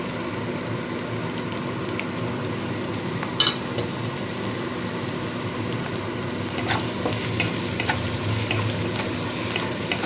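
Chopped garlic, ginger and green chili fry in oil in a wok while chilli potato is made, giving a steady, even sizzle throughout with a few faint clicks of utensils.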